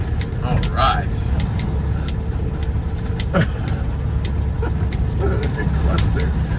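A semi truck rolls slowly off-road over a curb, its engine rumbling low and steady with scattered rattles and clunks from the cab, while someone talks over it.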